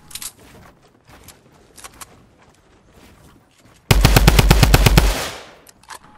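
Machine gun fire in a shooting video game comes as one loud, rapid burst of closely spaced shots lasting just over a second, after a stretch of faint, scattered background noise.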